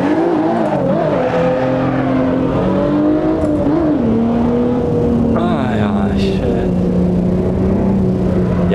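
A BMW M1 in Stage 3 tune in the racing game Assetto Corsa, its engine droning loud and close with rising and falling pitch as it accelerates and shifts, continuous throughout.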